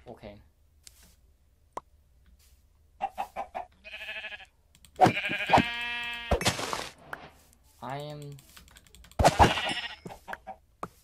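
Sheep bleating in Minecraft, several short wavering bleats from the game, mixed with talking voices and other scattered game sounds.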